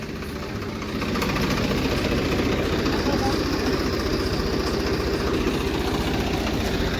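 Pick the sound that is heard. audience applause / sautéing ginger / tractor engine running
tractor engine running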